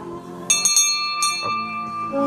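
A bright bell rings out with a few sharp strikes, its tones ringing and lingering between hits.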